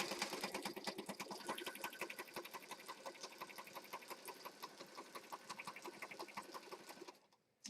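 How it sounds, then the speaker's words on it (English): A sewing machine stitches down the edge of a Paris-themed junk journal, running in a fast, even mechanical rattle close up for about seven seconds before stopping abruptly. "I'm going to stitch down this edge."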